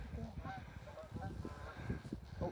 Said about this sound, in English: It's a duck just landing there and all.